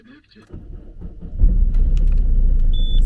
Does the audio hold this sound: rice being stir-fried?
no